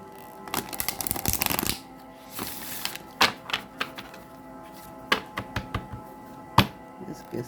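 Tarot cards are shuffled by hand in short rustling bursts and riffles, with scattered taps and thunks as the deck is handled and cards set down, close and clear with no talking.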